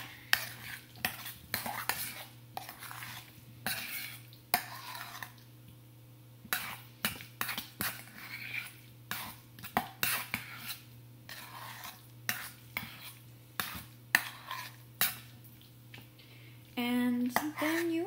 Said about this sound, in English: And mix it all up.